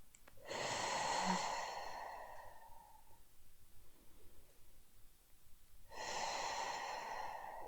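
A person makes two slow, breathy exhales through the mouth during a stretching routine, heard close and fairly quiet, separated by a few seconds of near silence.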